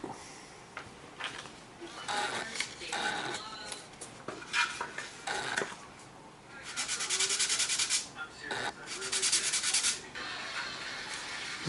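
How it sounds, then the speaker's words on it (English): Sanding block scraping across the plastic of a Trumpeter 1:32 MiG-15bis model kit: close, rough rubbing strokes in uneven bursts, louder and longer toward the end, with no talking. "Okay, use sanding block."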